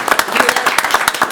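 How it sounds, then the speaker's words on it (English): A crowd at a Lenoir City council meeting gives a brief burst of applause, with sharp, close claps and a voice talking over them. "Let's give a round of applause not only to our public works, our police, and our fire."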